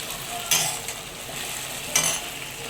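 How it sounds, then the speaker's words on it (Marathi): Onions sauté in a pan for a biryani gravy: a continuous close sizzle with two brief louder scrapes of stirring, and no talking. "कांदे टाकलेली ग्रेव्ही रेडी होत आहे।"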